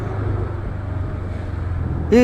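A Yamaha Maxam 250 big scooter (CP250) cruises on a road, its engine a steady low drone under wind and road rumble, with someone talking over it.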